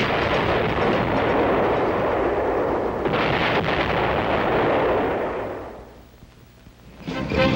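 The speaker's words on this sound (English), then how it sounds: "it was fired by a military gun crew on the COFA range" A Copperhead cannon-launched guided projectile is fired by a military gun crew on a desert proving-ground range at Yuma: a huge sustained roaring blast that rumbles for several seconds, fades away, then a fresh burst of noise rises at the end.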